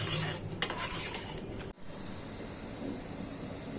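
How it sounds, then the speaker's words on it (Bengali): White meat curry stirred in a cooking pot, with quiet scraping, a couple of sharp clinks of a spoon against the pot and a soft bubbling hiss, all fairly faint and without talk. "আমার সাদা মাংসটা একটু লাড়া দিয়ে যাচ্ছি"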